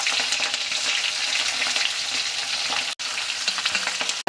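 Mustard seeds and green chilies frying in hot oil for a potato poriyal, a loud dense crackling sizzle that runs continuously and is briefly cut off twice near the end.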